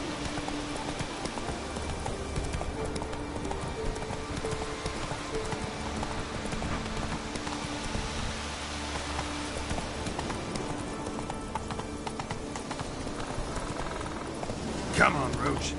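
Roach, the horse in The Witcher 3, gallops with rapid, continuous hoofbeats under spoken game dialogue, ending with a short sharp accent.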